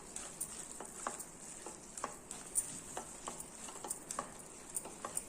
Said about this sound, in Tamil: நல்லா ஒரு தடவை மிக்ஸ் பண்ணி விட்டுட்டு நம்ம இறக்கிடலாம்